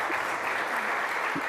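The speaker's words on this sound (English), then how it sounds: "You can clap for that." An audience at a talk on racism in the criminal legal system breaks into steady applause, a continuous wash of clapping from many hands filling the room with no pause.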